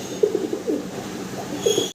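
Soft, low pigeon coos repeat several times in short gentle bursts, close by.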